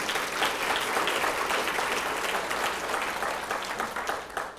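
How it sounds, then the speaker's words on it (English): Audience applause at a district student awards ceremony honoring top students, a steady wash of many hands clapping at an even level throughout, with no voices standing out. "that deserves a round of applause already"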